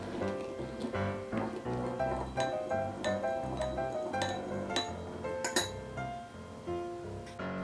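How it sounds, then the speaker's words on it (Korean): A spoon stirs instant coffee with sugar and hot water in a glass or cup, making rapid, continuous clinking and tinkling close by for several seconds, with a few sharper knocks. "설탕을 취향대로 넣고 뜨거운 물을 부어서 잘 섞어주세요."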